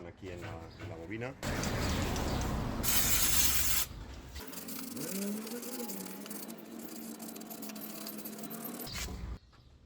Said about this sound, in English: I am going to clean the area with brake cleaner.